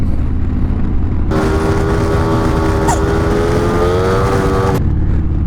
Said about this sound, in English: God, it's good to be on a motorcycle.